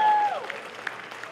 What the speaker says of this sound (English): That was a cheap play for applause, and you fell for it.